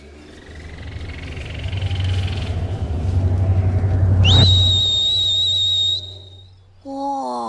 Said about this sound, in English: I didn't know you could whistle like that